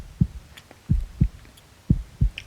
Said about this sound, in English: his heartbeat slowed to a calmer pace